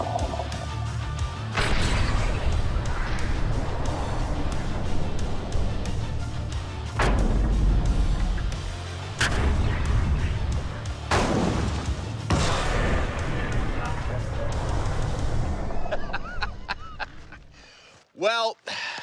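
Two rounds fired into a water tank ring out as sharp, loud cracks over a steady rumbling background, with voices around the shots.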